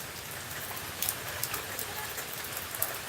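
Steady rain falls continuously, a soft hiss of drops on surfaces with scattered louder patters, moderately quiet and without voices over it.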